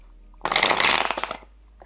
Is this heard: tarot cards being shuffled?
yes